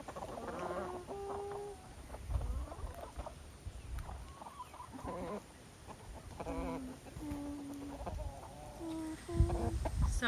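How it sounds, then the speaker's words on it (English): Chickens on a homestead cluck and call in bursts throughout, some close and loud, others softer, with a brief human voice near the end. "So this chicken has been pecked by other chickens."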